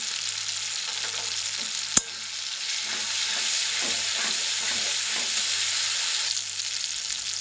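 A pan sizzles loudly and steadily as turmeric, salt and chili paste are sautéed for a tangra fish curry, with one sharp clatter near the start and soft stirring beneath the hiss.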